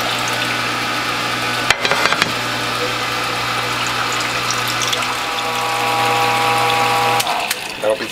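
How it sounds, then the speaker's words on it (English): Apple, blueberry and grape juice is poured into a Whole Health Foundation premium juicer, a loud wet splashing flow over a constant mechanical hum, with brief clunks near the start and end. "I'm going to pour this juice in here."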